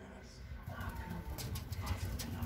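Boğma Hünkari pigeons coo softly in a loft, with low repeated rolling coos and some faint rustling in the background. Someone speaks over them.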